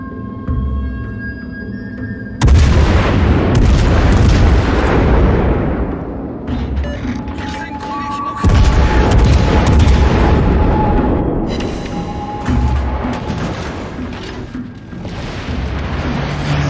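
Naval guns on a warship fire in a video game, heavy booming blasts that roll into long rumbling decays, three big salvos spaced several seconds apart, loud and close.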